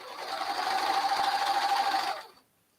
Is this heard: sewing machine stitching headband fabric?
yes